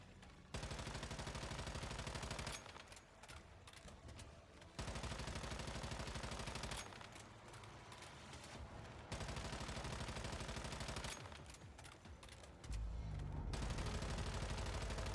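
Rapid automatic gunfire from the survival shooter Once Human, in loud sustained bursts broken by short pauses, with a heavier burst near the end.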